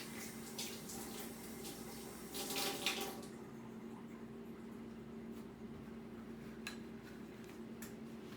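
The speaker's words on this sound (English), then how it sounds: "And now she's rinsing the flour off" Water runs steadily from a kitchen tap as flour is rinsed off during banana bread baking, a continuous close hiss with a brief louder splash partway through.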